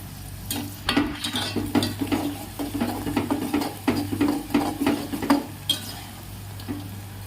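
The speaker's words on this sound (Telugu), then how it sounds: "ఈ ఉల్లిపాయ వేసి ఫ్రై చేసుకుందాం" Onions sizzling in a frying pan while a spoon stirs them, with repeated scraping and clinking strokes in a steady rhythm over a low continuous frying hiss, close up, no voices.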